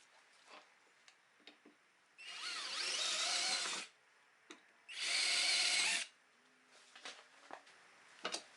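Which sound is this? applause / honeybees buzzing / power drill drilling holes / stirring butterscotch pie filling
power drill drilling holes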